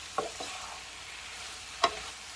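Chicken cooks over medium heat in a pan, giving a soft, steady sizzling hiss broken by two brief utensil clinks, one early and a sharper one near the end.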